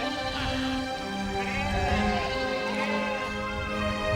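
Sheep bleat in a rural livestock setting, drawn-out wavering calls overlapping above a constant background bed, fairly close and clear.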